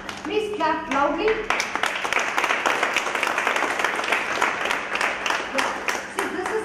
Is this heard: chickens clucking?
no